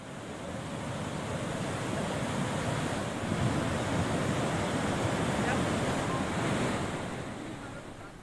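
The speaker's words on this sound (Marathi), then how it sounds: "गोंदिया जिल्ह्यातील पुजारी टोला धरणाचे 9 दरवाजे उघडण्यात आले। पाण्याचा विसर्ग सुरू करण्यात आलाय।" Water rushes out of the nine opened gates of the Pujari Tola dam in Gondia district, releasing about 6,700 cusecs. A steady, loud roar of surging water and wind-like noise holds constant throughout, with no voices.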